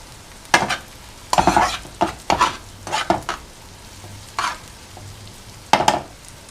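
Swiss rösti fries in butter in a pan, with a low background sizzle broken by several sharp scraping and clattering strokes of a utensil against the pan, close by and with no one speaking.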